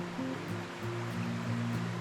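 Water in Urannah Creek flows and rushes in a steady, continuous wash, close by and moderately loud. A low hum runs underneath and no voices are heard.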